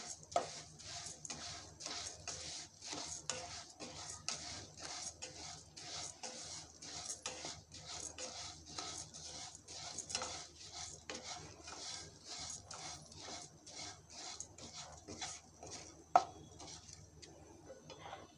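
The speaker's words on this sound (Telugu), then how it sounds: "ముందు ఇది అటుకుల్ని ఫ్రై చేసుకోవాలి మనం" Flattened rice (poha) being stirred and dry-fried in a pan, a quiet continuous scraping and rustling with rapid, regular strokes of the spoon against the pan for the whole stretch.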